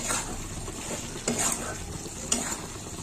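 Fried khoya kheer stirred into a pan of peas, with a steady close-up sizzle and two brief scrapes of the spoon against the metal. No one speaks.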